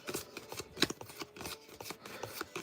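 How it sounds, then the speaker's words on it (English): Paper name slips being shuffled by hand in a card shop, a close, quiet run of dry rustling and rubbing strokes in an uneven rhythm, with no talk over it. "I'm going to shuffle them behind the camera"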